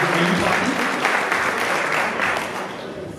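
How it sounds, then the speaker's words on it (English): A crowd at a retirement party gives a sustained round of applause, dense and fairly loud throughout, with no speech on top. "Give them a nice round of applause."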